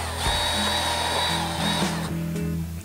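A power drill bores holes into the baseboard of an HO-scale model railway, a loud close whine that runs almost continuously with brief dips in pitch before stopping.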